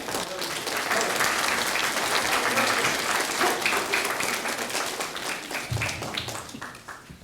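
A crowd at a Veterans Day service breaks into sustained applause after the national anthem, a thick, even roar of clapping that swells, holds steady and then thins out toward the end.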